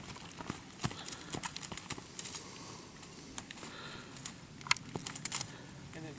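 Horse hooves clip-clop in an uneven walking rhythm along a hilly trail, fairly close and moderately loud, with some soft rustling and low background noise.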